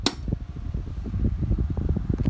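Electric fan switched on to its second speed: a click at the start, then a steady low whirring hum with a fluttering, slightly uneven texture as the blades spin up, alone and fairly quiet.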